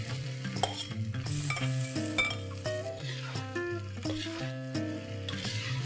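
Hakka-style Schezwan noodles being tossed with vegetables in a hot pan, a steady sizzle under repeated scraping and clinking stir strokes, close and continuous with no talk.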